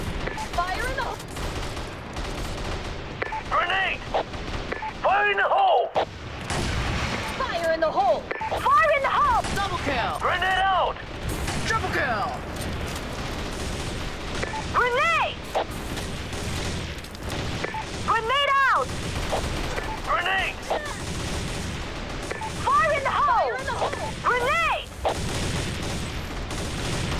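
Grenade blasts and heavy gunfire in the shooter game Assault Fire, with dense overlapping volleys and booms throughout and brief shouted voices cutting in now and then.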